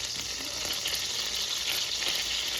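A stick of salted butter melting in a pan gives off a steady, close sizzle and crackle, with no other sound over it.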